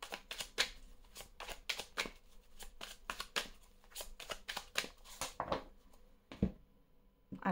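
Oracle cards being shuffled by hand, a quick run of crisp riffling flicks in an irregular rhythm, close and fairly quiet, with no voice over them.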